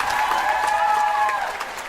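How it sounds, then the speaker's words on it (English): A comedy club audience claps steadily and densely for the whole stretch, a loud, continuous wash of applause with a few scattered whoops and crowd murmurs mixed in. "Clap if you've seen a ghost."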